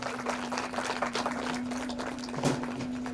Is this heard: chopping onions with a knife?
no